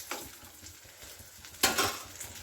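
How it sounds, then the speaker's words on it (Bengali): Eggplant slices frying on high heat in a pan, giving a soft crackling sizzle with light utensil scrapes as pieces are lifted out, ending in a brief louder burst of sizzling. "এই যে বেগুনটা আমার ভাজা হয়ে গেছে।"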